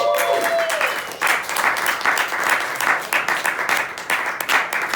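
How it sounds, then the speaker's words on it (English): Dense audience applause and clapping fills the room continuously for the whole stretch, loud and steady, following an introduction of a performer at a live comedy show. "please give a round of applause for Vinny Areias"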